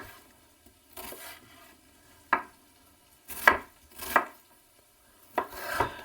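A kitchen knife chops vegetables on a board in a home kitchen: several separate sets of crisp cutting strokes with pauses between them, close and fairly quiet, without talk.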